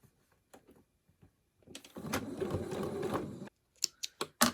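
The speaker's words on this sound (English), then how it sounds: "I'm going to go ahead and sew a seam across that just to hold it." A sewing machine runs a short seam across fabric on a Dollar Tree scrunchie for an Apple Watch band, about a second and a half of steady whirring stitching, preceded and followed by small clicks and handling noises.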